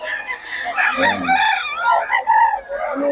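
Chickens and roosters at a Friday poultry market on P. Lazaro Street, Bocaue, Bulacan, crowing and clucking loudly and continuously over a busy crowd, with someone talking briefly.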